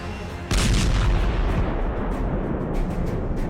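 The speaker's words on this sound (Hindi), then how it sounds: "ईरान की जान खर्ग द्वीप पर होते जरा इन धमाकों को देखिए" Explosion from strikes on Kharg Island, Iran: a sudden heavy boom breaks out after a brief quiet, then a sustained loud rumble continues, with several further sharp bursts near the end.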